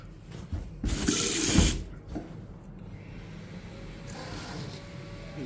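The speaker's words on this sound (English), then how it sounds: "I'm going to have to rinse this out and hopefully that'll do the job" Water from a running tap gushes loudly for about a second over a dirty, blackened Vaillant boiler part being rinsed during a water-pressure repair, then settles into a quieter steady trickle and sink splashing.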